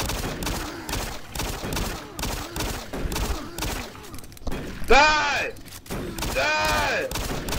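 Shotgun blasts in the video game Doom 3 co-op, a series of heavy booming shots at an uneven pace, loud and close, with someone shouting between them and monster growls.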